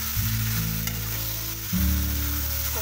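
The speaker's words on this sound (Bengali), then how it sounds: "আবারও খুব ভালো মতো নাড়াচাড়া করে নেব।" Soya chunks, potato and pointed gourd frying in spices give a continuous close sizzle, with the scrape and clatter of a spoon stirring the pan and a louder burst of frying near the end.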